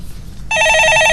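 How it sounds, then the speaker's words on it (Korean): Telephone ringing on a TV finance call-in show set: after a brief low murmur, a loud electronic ring starts abruptly and warbles steadily and close until the end. "예, 전화 받아보겠습니다."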